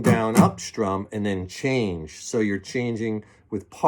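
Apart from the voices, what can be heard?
No distinct noise like a dog, phone or traffic.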